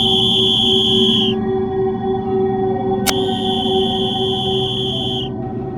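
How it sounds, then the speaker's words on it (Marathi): A goods train's whistle sounds in a long steady tone, cuts off, then returns after a sharp click and holds again, over a constant low rumble of the railway track. "मालगाडीच्या गाडची शिटी ऐकू येते."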